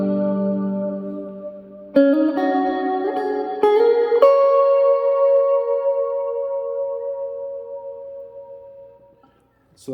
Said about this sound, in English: this particular reverb gives you a really nice wet sound, very similar to the cloud sound that comes on a Strymon Big